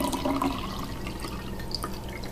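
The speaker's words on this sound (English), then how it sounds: "And then I'm just gonna pour water on in it." Water poured into a glass at home for a simple science experiment, a short close splashing and gurgling pour that fades to a soft trickle.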